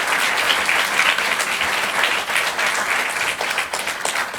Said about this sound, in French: Fais applaudir la salle du tétard.